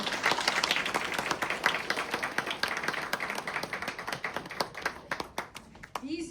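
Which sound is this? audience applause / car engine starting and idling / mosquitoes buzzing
audience applause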